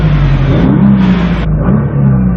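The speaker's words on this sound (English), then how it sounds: "but when we rev it," A 2017 Nissan GT-R engine revving up close, a loud deep roar that rises and falls through a couple of throttle blips over a steady rumble.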